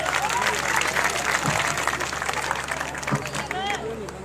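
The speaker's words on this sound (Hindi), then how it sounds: "अपने बच्चों के लिए जोरदार तालियां।" Applause from a crowd at a live rally-style event in a Haryana village setting, a dense steady wash of clapping lasting throughout, loud and close with some voices mixed in.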